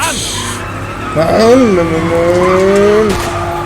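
A video game car accelerating hard with its tires squealing, a rising engine whine bending upward and holding in a long wail, loud and close, with a voice talking excitedly underneath.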